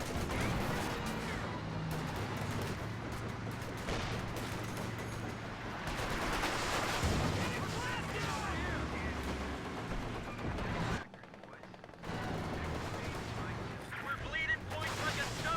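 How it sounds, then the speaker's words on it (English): A 240mm howitzer barrage in Company of Heroes 2, heavy booming impacts and crashing debris rolling through a dense battle din, with a brief near-silent gap before the rumble resumes. "240mm howitzer barrage. We'll probably destroy the house within the first shot."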